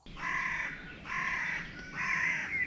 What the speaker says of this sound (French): il y avait un putain de corbeau